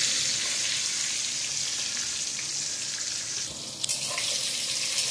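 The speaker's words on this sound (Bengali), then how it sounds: "সুন্দর করে বেগুনটাকে নেড়িয়ে চালিয়ে একদম অল্প অল্প করে ভেজে নেব।" Brinjal (eggplant) slices fry in a pan, a steady close sizzle that runs throughout, with soft stirring scrapes and a brief clink near the end.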